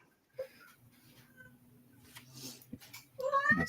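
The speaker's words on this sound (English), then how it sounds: "I keep hearing a cat" A cat meows a few times at a convention gathering, short cries standing out against a low background hum, with a voice breaking in near the end.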